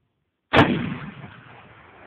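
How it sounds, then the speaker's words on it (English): A single loud, sharp report from a Mosin Nagant rifle fired outdoors, followed by a rumbling echo that trails off over more than a second, with no other sounds around it. "first time shooting a rifle"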